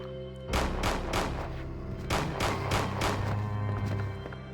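A handgun fires in Resident Evil 2 (1998), with about seven loud, booming shots at a steady rhythm of roughly half-second intervals. A low droning game backdrop runs underneath.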